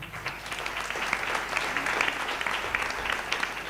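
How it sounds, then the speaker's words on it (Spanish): Audience at a religious debate event clapping together in a sustained, even burst of applause, moderately close, with no speech on top. "Aplauso para el hermano."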